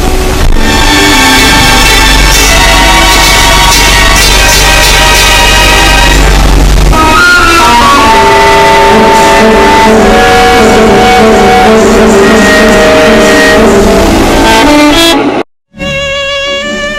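A solo violin, a Stradivarius, plays a tune over accompaniment, loud and continuous, ending with a brief break and a few fading notes.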